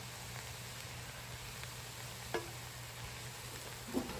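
Broccoli is mixed into rice in a pan: a quiet, steady sizzle with a couple of soft scraping stirs and light clicks, no voices.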